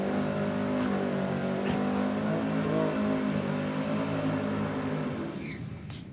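Nissan 180SX drag car launching down a quarter-mile strip, a sustained engine roar with strong low harmonics that holds steady and then fades as the car pulls away.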